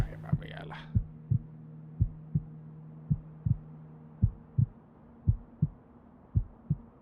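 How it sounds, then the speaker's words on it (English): Low-health heartbeat sound effect in a video game, a steady series of deep, thudding double beats repeating about once per second, alone after a brief burst of other sound at the start. "If you mean the heartbeat, it's because I'm at 9 health."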